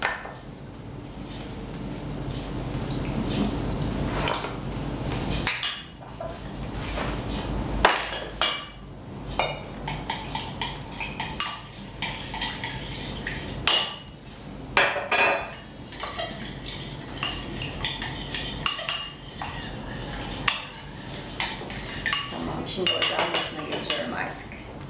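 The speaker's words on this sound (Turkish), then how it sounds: "3 çorba kaşığı domates salçasını suyla önce bir eriteceğim" Metal spoon clinking and scraping in a bowl while three tablespoons of tomato paste are stirred and dissolved in water, with busy, continuous kitchen clatter and a few sharper knocks throughout.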